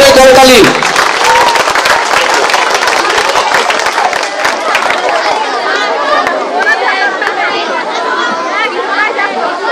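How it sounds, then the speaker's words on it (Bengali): An audience claps loudly at a school prize-giving ceremony. The burst of applause quickly fades into busy crowd chatter and voices. "জোরে করতালি"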